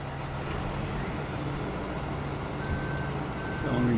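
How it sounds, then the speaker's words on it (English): A tractor engine idles and drones in Farming Simulator 2013, a steady, fairly loud low rumble with a few faint electronic beeps near the end and no talk. "I'm trying to start the engine."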